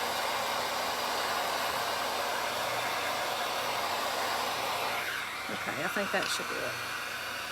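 A hair dryer or heat gun blows a steady close roar of hot air over a freshly worked surface, then cuts off as a person starts speaking over the fading hiss.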